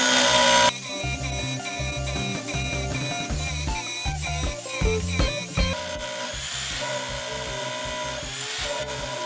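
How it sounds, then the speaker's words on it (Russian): A DWT rotary hammer drills continuously under load in a speed test, a loud, steady hammering buzz with rapid pulsing impacts that run for several seconds after a brief opening burst. "Сейчас протестируем перфоратор от торговой марки ДВТ"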